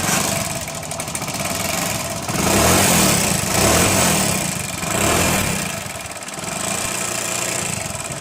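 A Hero Splendor motorcycle engine runs in its old condition before engine work, a steady close-up idle with gentle swells in loudness and no talking.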